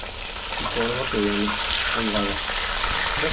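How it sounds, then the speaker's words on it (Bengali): Pakoras fry in hot oil while a gravy boils alongside, a continuous close sizzle and bubbling under a woman's short bursts of talk. "পকোড়াটা তো হয়ে এসছে আর এই গ্রেভিটাও ফুটছে"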